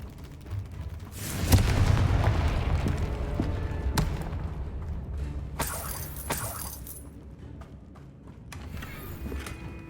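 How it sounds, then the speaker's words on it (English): The Confringo fire spell in Hogwarts Legacy erupts in a loud booming burst that rumbles for several seconds, followed by sharper cracks and clattering debris as the sound tails off. "Confringo."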